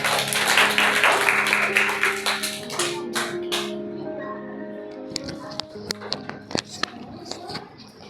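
Scattered hand claps and taps from a school audience at an Iqbal Day celebration follow a voiced passage, coming as a thin, uneven patter of separate claps rather than full applause.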